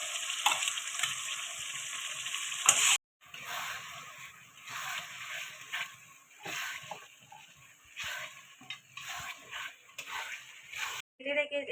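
A paste of ginger, garlic, cumin, whole coriander and cashew sizzles and sputters in a hot pan, with stirring scrapes and brief pauses, fairly quiet and close by.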